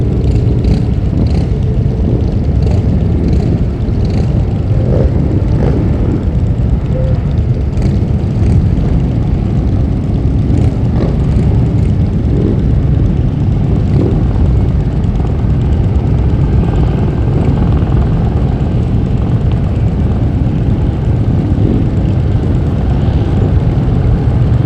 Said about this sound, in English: as we hear the helicopter flying over us